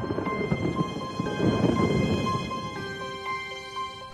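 Thunder from a thunderstorm rolls as a low broad rumble that swells and fades over several seconds, with steady tonal ringing layered above it and no speech.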